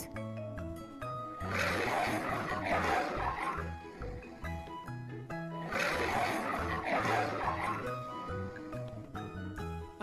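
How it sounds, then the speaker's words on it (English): A lion gives two long, deep roars several seconds apart, rough and loud, with a low rumbling bed between them and no voices. "Lion roars."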